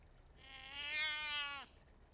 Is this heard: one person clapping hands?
no